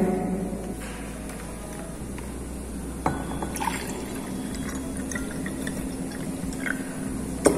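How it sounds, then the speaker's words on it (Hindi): Water poured into a container for a classroom electroplating setup with copper sulfate, a steady continuous trickle and splash with small drips and a faint glassy clink partway through. "अब हम इसमें थोड़ा वाटर डालते हैं."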